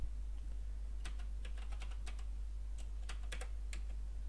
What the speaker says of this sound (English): in the address field just type in your standard gateway IP